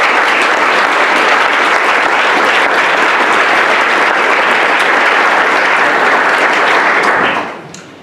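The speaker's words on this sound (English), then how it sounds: "Let's give all the officers a round of applause." A room at a chief probation officer's swearing-in ceremony gives the probation officers a loud, dense round of applause that holds steady for several seconds, then quickly dies away.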